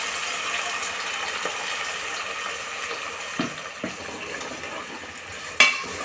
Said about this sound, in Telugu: మసాలా కూడా ఇందులోనే వేసేద్దాము పచ్చి వాసన పోయేదాకా మసాలాను వేగనిద్దామండి